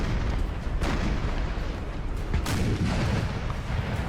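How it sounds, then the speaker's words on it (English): Artillery firing by the Ottoman side in the battle game Napoleon: Total War, with deep rumbling booms, a couple of sharper blasts standing out over a continuous low roar of battle. "Osmanli's firing away their artillery"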